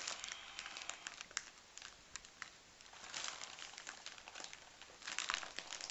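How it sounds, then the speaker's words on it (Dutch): Adhesive tape crinkles and crackles quietly close by, a series of soft irregular rustles and snaps with brief louder bursts, no talking. "Jouw plakband is irritant."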